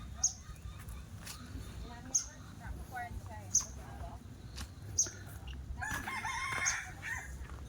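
A rooster crows faintly in the distance at a hilltop temple, with sharp high chirps repeating at regular intervals and low voices murmuring underneath.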